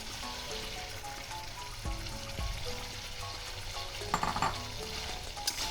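Okra frying in a pan for bhindi masala, making a steady, moderately quiet sizzle throughout with occasional light stirring clatter near the end.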